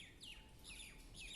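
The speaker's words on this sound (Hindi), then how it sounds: "देखिए बर्ड्स चहचहा रही हैं।" Small birds chirp and tweet in repeated high, quick phrases at a garden with potted plants in winter. The calls are clear but fairly faint, with steady low background hum and no talking.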